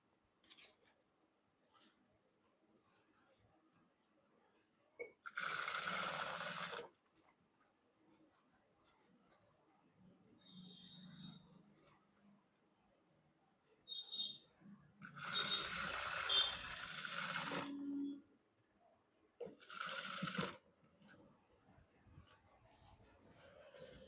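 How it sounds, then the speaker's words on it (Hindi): Sewing machine stitching close alongside elastic on an Afghani salwar, heard as a few loud bursts of rapid whirring stitches separated by quiet pauses and small handling sounds. "आपको इलास्टिक के बिल्कुल पास पास सिलाई लगाते हुए"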